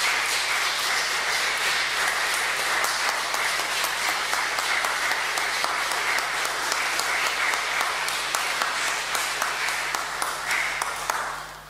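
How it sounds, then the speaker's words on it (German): A concert audience applauds an artist at length, a dense, steady wash of many hands clapping with the odd sharper clap standing out, holding level for the whole span before easing slightly at the end. "Und ich darf nochmal um herzlichen Applaus für unseren Künstler bitten"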